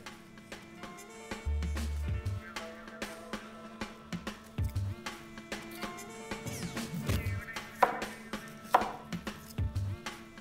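A knife chops vegetables on a cutting board while a chicken burger is prepared, with crisp, irregular close knocks that come in short bursts and single strikes over a quiet kitchen background.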